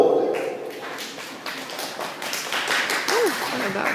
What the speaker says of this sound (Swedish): ett varm applåd